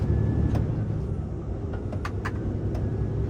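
An empty truck with an unloaded trailer accelerates on a motorway toward Bratislava, a steady loud engine roar and road rumble heard from inside the cab, with a few faint clicks and no talk.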